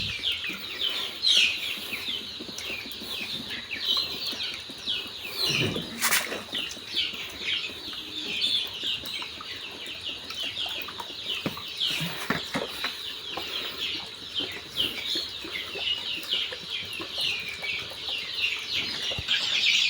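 Chickens and young chicks cluck and flutter around water dishes as they rush to drink, with steady bird chatter and soft wing flaps close by, and a louder flapping burst partway through.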